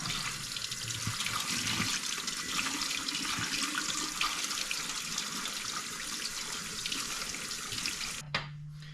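Fresh cherries being washed under a running faucet in a sink, a steady broadband rush of water that continues nearly nine seconds before cutting off abruptly near the end, with no talking.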